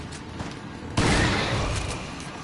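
A shotgun blast in Resident Evil 4, fired with the muzzle against an enemy's head: one sudden loud boom about a second in, decaying slowly over a low game background.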